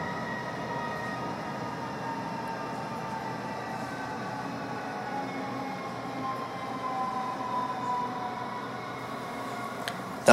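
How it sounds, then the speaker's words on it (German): S-Bahn commuter train running into Mainz main station, heard from inside as a steady, moderately loud rumble of wheels and rails with a faint squeal partway through, no voices. "Dabei wechselt unsere S-Bahn ganz auf die östlichsten Gleise, da sie auf Gleis 1 einfahren wird."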